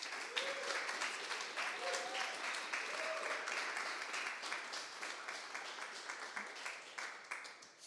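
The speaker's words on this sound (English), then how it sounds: "let's give a big, big round of applause for them" Steady applause from a sizable crowd at a coding bootcamp demo day fills the space, dense and sustained, with a few brief vocal tones rising over it early on.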